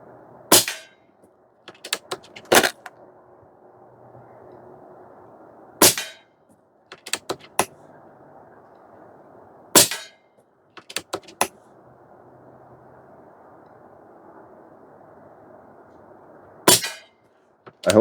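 Umarex Gauntlet 2 SL22 PCP airgun fires pellets at 25-yard targets: sharp, close, cracking shots spaced a few seconds apart, each followed by quieter clicks of bolt cycling and handling over a faint background hum.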